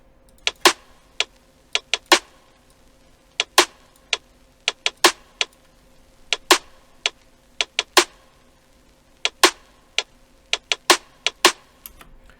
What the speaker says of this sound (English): Then I layered that snare with an off snare